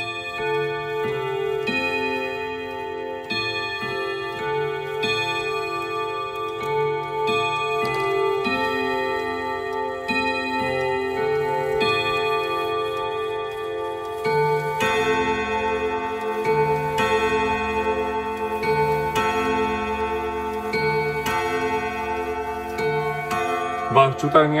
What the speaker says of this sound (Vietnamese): chúng ta nghe những cái hồi bính bong nó dồn thế nào